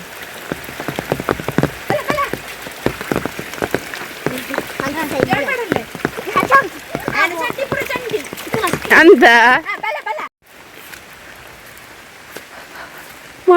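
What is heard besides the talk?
rain falling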